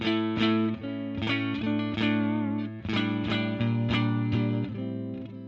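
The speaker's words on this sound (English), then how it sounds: "Clean sound with nothing on, sounds like this." Clean electric guitar chords through a tube amp ring out with warm, slightly saturated tone, strummed in a steady rhythm with each chord sustaining and decaying, loud and alone.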